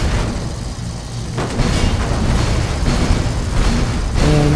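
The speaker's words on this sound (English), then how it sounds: "Explosions!" Booming explosions from the video game Dead Rising 3, played in PC co-op during a biker gang leader boss fight, come as dense rumbling blasts with sharper bursts layered over steady game noise.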